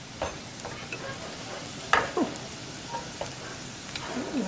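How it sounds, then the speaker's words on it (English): Oil is swirled around a hot pan before kimchi pancakes with shrimp and tofu go in, a steady close sizzle broken by a few sharp scrapes and knocks. "Gotta move that oil around"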